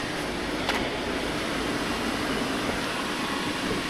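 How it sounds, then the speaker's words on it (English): A blower fan steadily pushes air through its pipe to inflate a blow-up paint booth, giving a continuous loud broadband whoosh and rumble throughout, with a brief tonal streak early on and no talking. "it helps too if your blower pipe isn't kinked"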